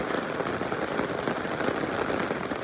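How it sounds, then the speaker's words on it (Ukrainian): Heavy rain pouring down steadily, a dense, constant hiss of drops drumming on a surface, no voices. "бо іде сильний дощ"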